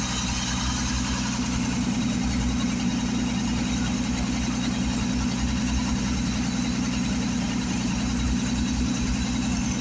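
1955 Bombardier wide gauge engine idling on a test run, a steady, low mechanical rumble with faint knocking vibration, close and continuous with no talk.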